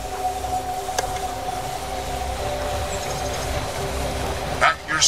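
Train pulling into a station in They Are Billions, a steady rail rumble with a faint click and a brief higher burst near the end.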